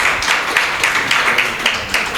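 An audience at a primary schools football awards and closing ceremony applauding a participating primary school, with steady, rhythmic clapping from a crowd that is fairly close and moderately loud.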